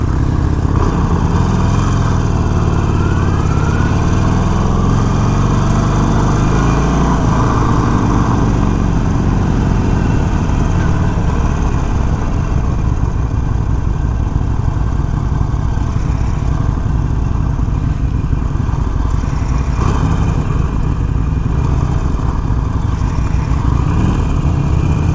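A 2021 Harley-Davidson Sportster 48 engine under way, a loud continuous low rumble with rising and falling revs and constant wind rush, close and steady throughout with no talking.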